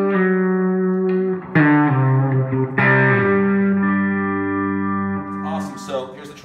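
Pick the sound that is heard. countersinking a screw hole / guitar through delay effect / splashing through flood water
guitar through delay effect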